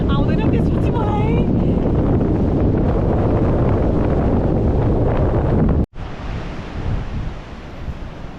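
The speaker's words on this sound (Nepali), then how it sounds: "समस्या भने एकदम हावा लागेको" Strong wind at a beach buffeting the microphone in loud, continuous roaring gusts, with a brief cut and then quieter but still steady blustering.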